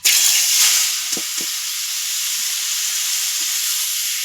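Bottle gourd and potato pieces drop into hot oil with a loud sudden sizzle that settles into a steady, close hiss. A couple of soft knocks sound early on.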